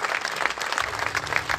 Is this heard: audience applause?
yes